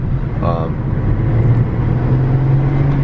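A Volkswagen CC car drives and accelerates, its low engine hum steady and close, with a rising drone building toward the end; a voice briefly speaks over it early on.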